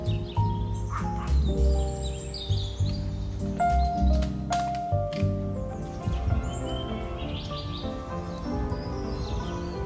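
Birds singing in a city park in Lviv, many bright chirps, trills and calls overlapping at close range with a busy outdoor murmur beneath.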